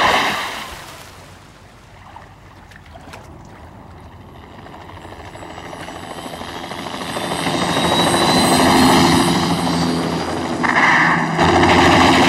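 Helicopter in a Japanese sci-fi action film: a loud, continuous rotor and engine roar that grows heavier and nearer over about twelve seconds, with a rushing wash beneath it.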